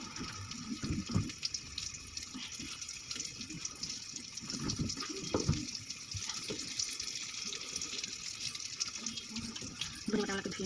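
Running tap water splashes over coriander leaves being washed in a kitchen, a steady stream with intermittent splashes and clatters as the leaves are handled.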